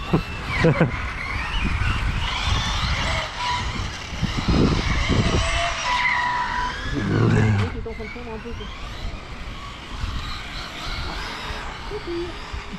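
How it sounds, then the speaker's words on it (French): An FTX Superforza radio-controlled car braking, a short skidding scrape and whine among motor and tire noise, with people talking nearby. "C'est le freinage."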